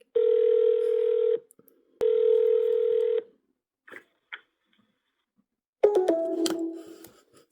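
An outgoing phone call rings through toward voicemail: two long electronic ringback tones about a second apart, then a short pause and a brief burst of garbled sound from the line as it connects.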